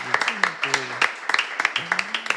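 A few close hand claps ring out in an irregular patter during a Brazilian talk-show taping, while voices keep talking over them.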